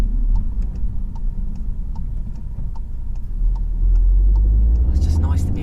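A 2020 Mk8 Volkswagen Golf R engine rumbles low and steady while driving, with a faint regular ticking over it and the rumble swelling near the end.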